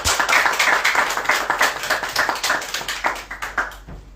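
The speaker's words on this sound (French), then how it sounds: "Sous vos applaudissements, veuillez accueillir Mme Andrea Épouse-Bien" A studio audience applauds a guest invited on stage for an eco-guard lottery draw, a few hands clapping in quick, uneven bursts close by that thin out and fade toward the end.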